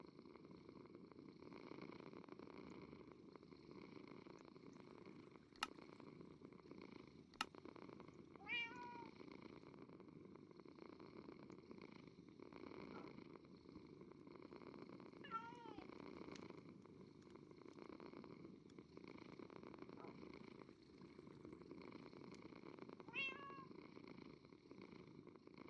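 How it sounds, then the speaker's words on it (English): A domestic cat lying on a bed purrs softly and steadily at close range, a continuous rhythmic rumble of breaths broken by a few faint clicks, with no speech. "now the cat is laying on the bed. And purring."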